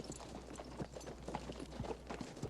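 Horse hooves clip-clopping in the 1992 western film Unforgiven, a steady, fairly quick run of faint, even hoof strikes over a dull background rumble.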